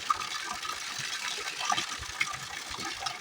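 Spring water pours steadily from stones beside a river in a village, a continuous close splashing gush with small trickling accents.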